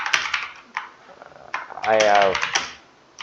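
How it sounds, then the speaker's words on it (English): Computer keyboard typing, quick clusters of clicking keystrokes up close, with a voice speaking over part of it. "I'm typing and saving the note."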